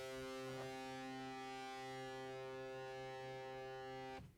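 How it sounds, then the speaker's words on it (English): A steady, buzzy distorted synth tone with strong harmonics holds for about four seconds, then cuts off abruptly. "add the same distortion effect. Now listen to what happens when I have the effect enabled here"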